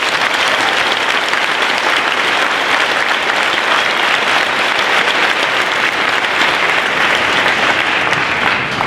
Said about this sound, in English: please join me in a round of applause to these influential PHS adults